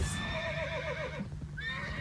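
A horse in the World of Warcraft video game gives a loud, close, wavering whinny lasting most of the moment, with faint hoof clip-clop underneath.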